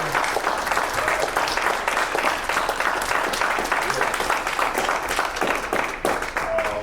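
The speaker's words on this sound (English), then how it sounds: "Let's give Miss Rebekah Lipscombe another round of applause." Audience applause after a Bach lecture recital, dense sustained clapping from a crowd filling the room with steady intensity, with a voice briefly audible beneath it.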